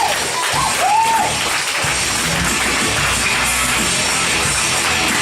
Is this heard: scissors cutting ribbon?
no